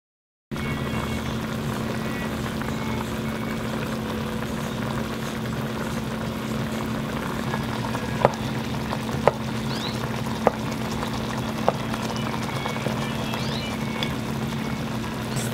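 Oxtail simmers in a covered pot on a stovetop, a steady low bubbling hum with a few faint clicks and pops scattered through it, no voices.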